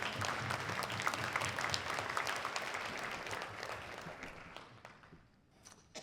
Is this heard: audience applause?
yes